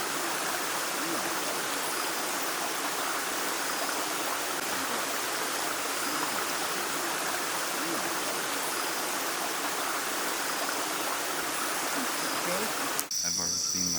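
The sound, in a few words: small waterfall and streams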